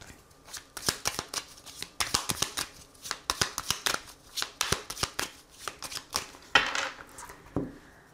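A deck of oracle cards is shuffled and cut close up, giving a rapid series of crisp riffling and slapping bursts in an uneven rhythm.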